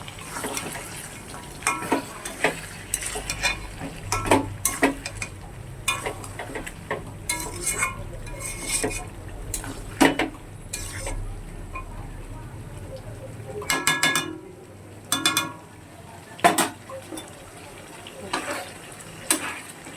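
Meat fries and is stirred in a pan, a soft sizzle under repeated scraping and clinking of a spoon against the pan, close by, with someone talking over it at times.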